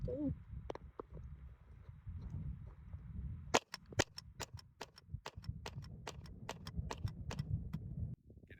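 Budget $100 rifle firing a rapid string of about fifteen sharp cracks at pineapples outdoors, shots fairly evenly spaced over a low rumbling background.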